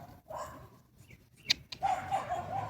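Dogs bark in a dog park, a few short sharp barks followed by a busier stretch of barking and yelps with bird-like chirps, outdoors at middle distance.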